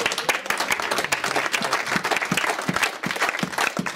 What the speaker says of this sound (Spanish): Dese un aplauso a usted mismo.